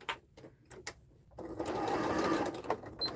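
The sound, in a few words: sewing machine stitching twill tape on gift wrap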